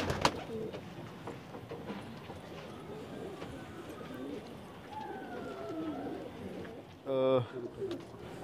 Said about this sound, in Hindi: अच्छे अच्छे कबूतर इनके पास और भी कबूतर मौजूद हैं।